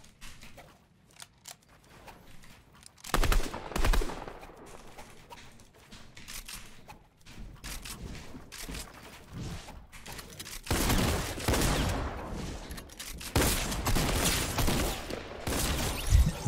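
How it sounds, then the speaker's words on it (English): Gunfire from players in the video game Fortnite: bursts of rapid shots come in clusters, loud and dense in places with quieter gaps between, and no voices are heard. "Man, why is everyone shooting at me?"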